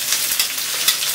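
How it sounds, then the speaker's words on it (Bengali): Chopped ginger and green chili fry in a pan with cumin for a mutton keema biryani, giving a steady close sizzle with a few brief louder spits and no talking. "আদা কাঁচা লঙ্কাটা ভাজা ভাজা হয়ে গেছে"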